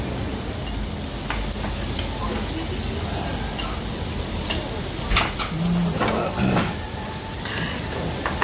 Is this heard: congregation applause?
no